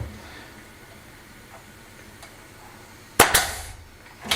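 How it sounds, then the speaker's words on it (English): A nail gun fires nails into wood during a farmhouse kitchen sink installation: two sharp, loud close bangs in quick succession, then a third shot after a short pause, following a quiet stretch. "I just need to fire a couple of nails in it"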